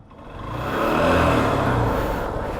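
A Bajaj Pulsar NS200 motorcycle with an engine sound fault revs up, swelling from a low idle to a steady, fairly loud mid-pitched drone over about two seconds, with no voices.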